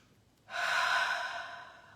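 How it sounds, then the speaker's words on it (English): A single slow, deep breath during guided relaxation, a soft airy exhale that swells after a brief quiet moment and gradually fades, close and alone. "Just breathe."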